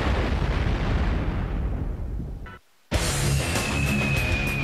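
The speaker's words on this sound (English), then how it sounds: "In order to get a bomb through 10 meters of reinforced concrete, you've got to drive through it with a special bomb" A bunker buster bomb explodes with a sustained, roaring broadband blast. The roar tails off into a brief dead silence, then a second loud burst of rumbling debris and noise follows.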